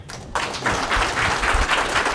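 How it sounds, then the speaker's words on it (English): An audience bursts into dense, loud applause after a short quiet moment, the clapping continuing steadily as a man is welcomed forward. "let's give it a round of applause"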